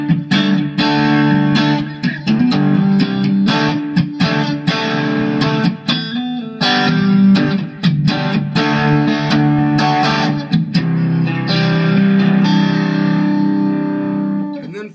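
Electric guitar strums chords with a mildly gritty overdrive tone from an 808-style overdrive pedal, choppy rhythmic strokes with short muted breaks between them.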